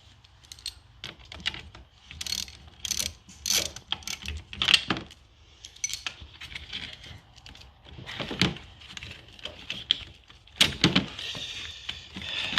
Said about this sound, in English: the proper way to disconnect the battery, you have to disconnect the negative terminal first, and then you have to disconnect the positive